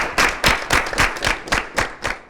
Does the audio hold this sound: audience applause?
yes